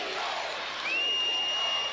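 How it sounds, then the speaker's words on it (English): Arena crowd at the 2000 SEC Gymnastics Championships cheering after a routine, a steady broad roar of many voices with a long sustained whistle rising above it in the second half. "you know exactly what the crowds are cheering for after a performance like that."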